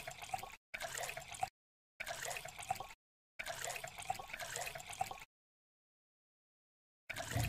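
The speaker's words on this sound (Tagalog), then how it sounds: "ngayon maglalagay tayo sa ating kaldero ng siyam na basong tubig" Water poured into a cooking pot while making mango ice candy, a splashing, running stream in separate bursts with short pauses between them, heard close and fairly quiet.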